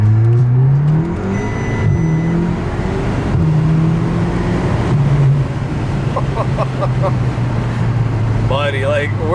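An Audi S3 fitted with a CTS turbo inlet and turbo muffler delete accelerates hard, its loud engine note climbing and dropping through gear changes from inside the car, with a brief voice near the end.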